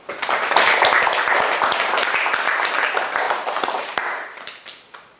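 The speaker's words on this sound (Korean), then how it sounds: "감사의 박수로." A church congregation gives applause of thanks during a sermon, a loud close burst of many hands with sharp individual claps standing out, swelling then thinning and tapering off toward the end.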